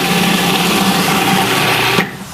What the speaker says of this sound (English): Everything with the food processor. Everything. Look. I minced garlic.